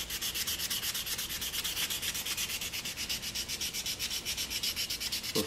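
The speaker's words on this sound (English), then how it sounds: "I'm going to sand it a little more." Hand sanding of a small Kawasaki engine part, a steady rhythmic rasp of abrasive strokes repeating evenly and close up, alone without voices.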